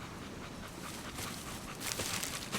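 A dog pants steadily at close range, a quiet, continuous breathy rhythm with no talking.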